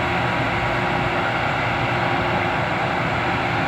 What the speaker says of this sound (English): The noise you hear, that you see those yellow cabinets down there, those are generators, huge Caterpillar generators.